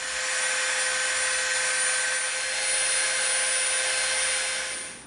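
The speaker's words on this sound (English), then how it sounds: "we're going to soften the edge up a little bit with our Dremel" A Dremel rotary tool softening the edge of EVA foam for a prop blaster, a loud continuous high-pitched whine held steady close by for about five seconds before winding down.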